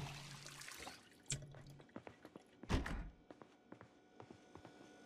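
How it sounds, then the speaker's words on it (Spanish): Water bottle filled at a tap in the zombie survival game Project Zomboid, with a few soft thunks and brief liquid splashes over quiet background clatter, no talk. "Llenar botella de agua."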